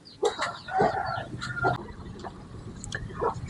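A hoarse Scotch Fancy canary lets out a string of short, harsh, squawky calls at close range, with brief pauses between bursts.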